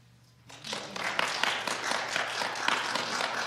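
An audience breaks into applause after a speech: dense, steady clapping starts abruptly and carries on evenly at moderate loudness.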